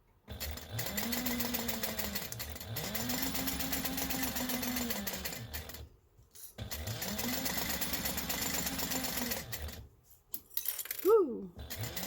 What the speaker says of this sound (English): Sew them at a 1/2 inch seam allowance.